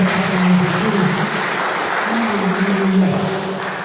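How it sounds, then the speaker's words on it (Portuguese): A church congregation gives the Lord loud, sustained applause, a steady wash of clapping mixed with voices and a low held tone. "Você pode aplaudir bem forte o Senhor"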